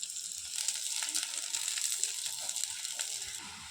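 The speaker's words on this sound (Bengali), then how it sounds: "সুন্দর করে ভেজে নিলাম" Food sizzles in hot oil in a wok while a potato-and-egg dish cooks, a soft, steady crackling hiss with faint scattered pops, fairly quiet and close.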